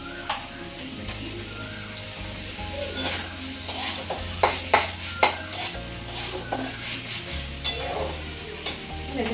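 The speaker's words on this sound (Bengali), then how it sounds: "মশলার কাঁচা গন্ধটা চলে গেছে, ওতে বোঝাই যাচ্ছে যে মশলাটা ভালো মতো কষানো হয়ে গেছে।" Spiced masala paste frying in oil in a pan, a steady close sizzle broken by stirring scrapes and a few sharp clinks of a utensil against the metal.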